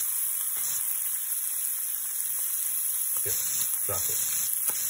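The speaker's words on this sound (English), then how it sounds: "once they sear, you turn the skillet off and just let the residual heat cook it" Shrimp sear in a hot skillet with a steady, close sizzling hiss that runs throughout, with a few brief clinks and a short spoken remark over it.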